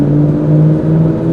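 Engine of a clean stock 2003 Ford SVT Cobra while driving, a loud steady drone with strong low harmonics, holding even revs throughout and heard close with no talking.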